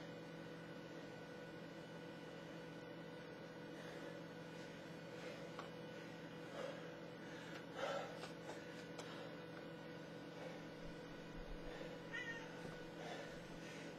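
A house cat meows a few times, faint and somewhat distant, over a steady low hum in an indoor room during a home workout session.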